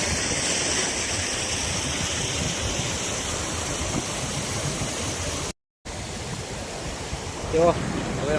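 A natural waterfall spills from an overflowing village pond, a loud, steady rushing roar of falling water that continues throughout, broken only by one brief gap near the end.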